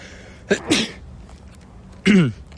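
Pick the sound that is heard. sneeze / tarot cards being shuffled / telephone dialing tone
sneeze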